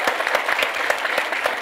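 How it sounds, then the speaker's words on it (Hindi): Loud, dense applause from an audience for a film team at a Bollywood trailer launch, a continuous wash of many hands clapping at once. "एक बार जोरदार तालियां बजाएं"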